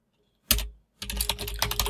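Computer keyboard typing: a single sharp keystroke, a brief pause, then a quick run of close, clicky keypresses, alone with no voice.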